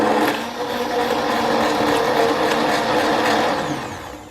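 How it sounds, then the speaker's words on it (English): Immersion blender whirring steadily as it purées a yellow pear tomato sauce, a close, continuous motor drone with a churning liquid texture that holds for several seconds and then tapers off. "we're just going to blend this up until it's smooth"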